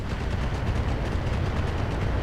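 Turrets firing in the BattleTech video game, a dense, continuous rumbling barrage of rapid blasts at steady loudness, with no talking.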